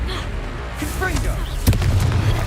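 A Confringo blasting spell explodes during a Hogwarts Legacy combat fight: one sharp, booming burst lands among battle effects and spoken lines from the characters.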